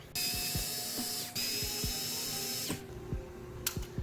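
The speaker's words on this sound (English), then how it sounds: "There's 2 screws, one on either side. They're both Phillips heads. Take those out." A power screwdriver backing out Phillips head screws from a car infotainment screen on an Infiniti Q50, with a steady whir broken by short stops and a few ratcheting clicks close by.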